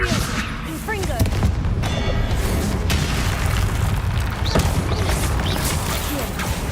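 Spell blasts from Confringo in Hogwarts Legacy, a series of booming, crashing bursts over a dense rumbling game soundtrack, loud and continuous with sharp impacts near the one- and four-and-a-half-second marks.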